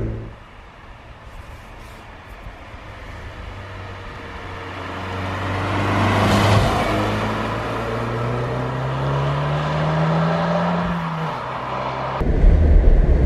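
A 2017 Fiat 124 Spider turbo roadster accelerates, its engine note rising steadily in pitch as it pulls through the revs, loud and close with road and wind noise beneath.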